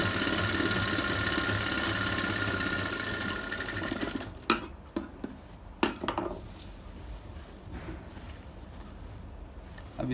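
A sewing machine double-stitches a seam on a bridal sarara, humming steadily for several seconds, then slowing into a few sharp clicks and knocks before running on more quietly.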